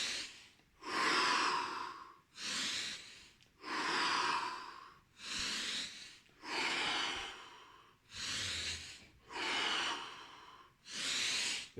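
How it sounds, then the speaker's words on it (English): Deep rhythmic breathing from a round of the Wim Hof method, with about nine full, close inhale-exhale cycles that rise and fall steadily with no talking. "So let's start with 30 breaths,"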